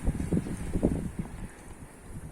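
Strong gusty wind during a smoky patrol outdoors, a low buffeting rumble against the microphone that swells in uneven surges and then eases off, with no talking.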